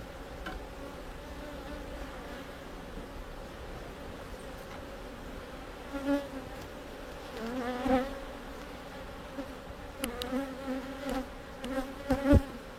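Honeybees hum steadily around an open, queenless hive during a frame inspection with brood hatching out, a soft continuous drone with a few louder passes near the end.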